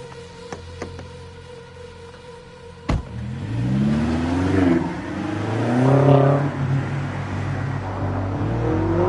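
A car engine in the game Late Shift revs up and pulls away, a sharp thud followed by rising, swelling engine tones that climb and fall through gear changes, loud and close with no talk.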